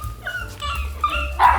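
Dog barking and yipping at fairly close range, with short bursts scattered across a low steady background rumble and a louder bark near the end.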